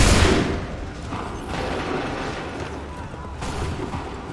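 Musket volley in the video game Assassin's Creed Rogue, a loud burst of massed gunfire at the start followed by booming, rolling echoes and a second crack partway through.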